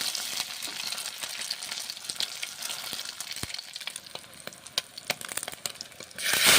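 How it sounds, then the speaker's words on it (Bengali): Salted eggs fry in a hot pan with a steady, close crackling sizzle and scattered spitting pops, swelling louder in the final moments. "ভেজে নিচ্ছি ডিম।"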